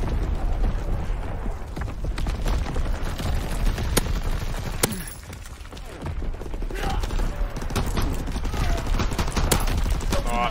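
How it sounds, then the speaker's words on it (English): A division artillery strike lands in Call of Duty WWII, a continuous barrage of booming blasts and rattling gunfire over a dense battlefield rumble, loud and close, with players talking over it. "Firing division artillery."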